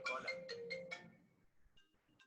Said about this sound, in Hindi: देखो फोन बजा ना, इसी टाइम पे ये टाइम है उनका फोन करने का।